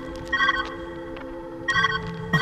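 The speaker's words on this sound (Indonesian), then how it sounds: "Oh, telepon." A telephone rings in the puzzle game Viewfinder, a steady electronic trill repeating in short bursts over a constant humming background, fairly loud and with no talking.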